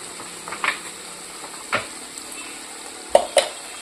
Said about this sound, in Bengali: এই যে মশলাটা কষে এসছে